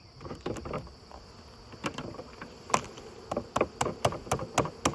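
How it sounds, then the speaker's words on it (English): A package of bees is dumped into a hive: a steady buzzing hum punctuated by sharp knocks and taps as the box is shaken, growing busier and more clustered toward the end. "now I'm going to proceed to dump the bees down into the hive"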